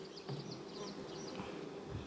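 Honeybees buzz densely and continuously close by at an open hive, a thick droning hum with individual bees whining past.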